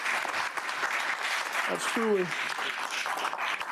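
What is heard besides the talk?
audience applause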